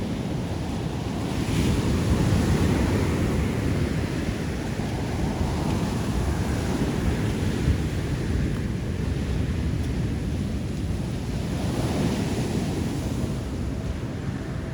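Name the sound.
ocean waves on a beach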